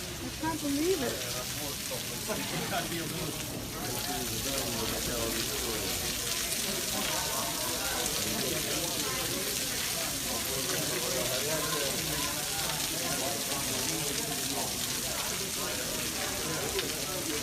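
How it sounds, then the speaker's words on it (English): Steady rain falls outside a doorway in Salt Lake City, a continuous, even hiss that fills the whole stretch while people talk now and then beneath it. "The rain."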